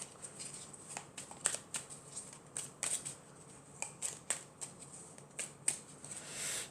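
Oracle cards are shuffled and handled close up, soft quick riffles, flicks and snaps of card stock in irregular bursts, fairly quiet, with no voice.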